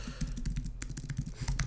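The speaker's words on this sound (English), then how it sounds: "let me type it in here" Rapid computer keyboard typing, a quick irregular run of clicky keystrokes over a low steady hum, close and fairly quiet.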